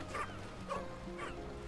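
Moss, the dog pup in the video game Pikmin 4, gives three short barks or yips, evenly spaced and moderately close, over a low steady game background with no talk.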